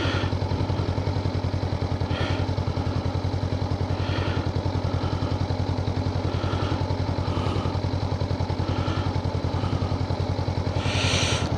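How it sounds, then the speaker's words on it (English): A Honda NX500 motorcycle rides along open country roads, its engine a steady close drone with constant rumble and wind, holding an even pace throughout. "Yeah, so the NX500 is going well. It's a well-balanced bike for these sort of roads."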